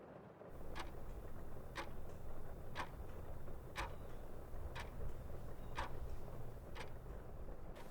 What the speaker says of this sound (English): The rhythmic ticking of the clock echoed in the room of the empty apartment.